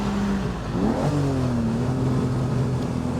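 A 1966 Ferrari 275 GTS engine pulls hard in second gear on an open road, heard from inside the car. Its steady, tonal drone climbs in pitch, shifts briefly, then holds a loud, even note.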